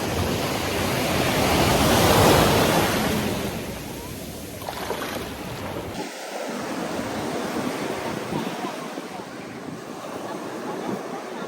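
Strong ocean waves surge and wash at Crystal Beach on Nusa Penida, a broad continuous roar that swells loudest early on, with wind blowing through and faint voices beneath.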